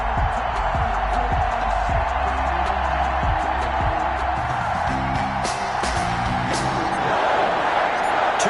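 Stadium crowd at Lambeau Field before a Green Bay Packers vs Detroit Lions game, a broad roar of cheering and yelling with scattered whoops and thumps, while an announcer's voice talks over it.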